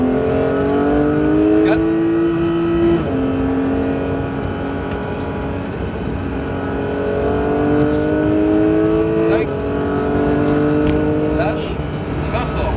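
A Porsche 911 GT3 engine revs hard on the Mireval race circuit, its pitch climbing through the gears with a shift near three seconds, while an instructor's voice coaches over the steady, loud cabin roar.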